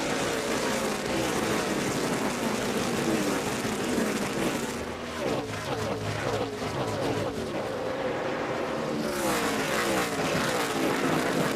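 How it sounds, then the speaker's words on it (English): NASCAR stock cars roar past at the Brickyard during the 2007 Allstate 400 just after a green-flag restart, loud continuous engine noise with a brief dip as the pack passes, then rising again. "green flag waves again as Dale Earnhardt Jr. leads Tony Stewart, Juan Pablo Montoya, and Jeff Gordon down to turn 1"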